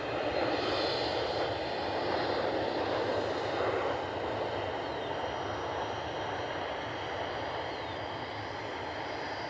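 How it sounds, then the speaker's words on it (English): An American Airlines Boeing 737 on final approach to runway 6 left after an earlier go-around gives a steady, broad engine roar that fades slightly over about ten seconds, heard from a distance and alone without voices. "the American 737 that did the go around a few minutes ago is on final for 6 left"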